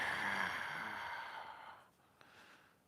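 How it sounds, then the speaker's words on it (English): A slow, steady exhale during a yoga breathing cue, a soft airy breath that fades gradually over about two seconds, followed by a faint brief click, with no talking. "And an exhale here."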